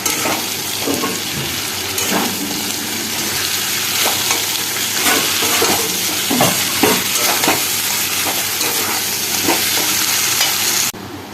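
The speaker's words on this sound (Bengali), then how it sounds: "আলুগুলোকে দিয়ে দেবো দিয়ে দুটোকে একসাথে আবার খানিক্ষণের জন্য কষিয়ে নেবো" Chicken and fried potatoes sauté together in a pan with a loud, continuous sizzle. Repeated stirring and scraping strokes punctuate the sizzle throughout, up close, and it drops off abruptly at the end.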